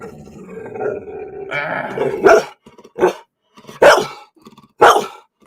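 A dog barks four times in sharp, loud bursts spaced about a second apart, preceded by low growly vocal noise and indoor rumble.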